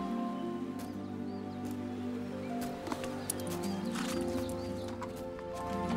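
Horse hooves clip-clopping at a steady pace, with sharp intermittent knocks over a sustained musical background, fairly close and moderately loud.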